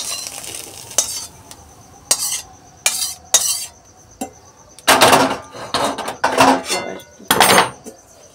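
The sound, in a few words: serving egg bhujia from the pan, utensils clattering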